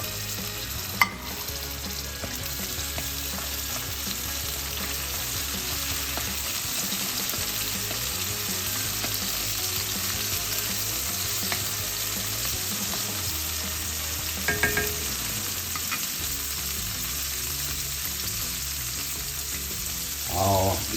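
Garlic, tomatoes and carrot fry in a pan with a continuous close sizzle and crackle, joined by occasional stirring scrapes and small clatters, without talk.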